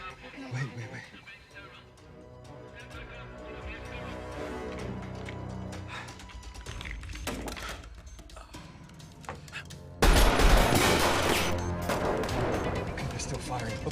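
Gunfire during a firefight in an action film, with scattered sharp shots under tense dialogue and then a sudden louder burst of firing and crashing that keeps going to the end.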